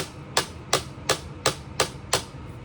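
Six quick, crisp clacks of hard lightsaber blades striking each other in an even rhythm, loud and close with no talking.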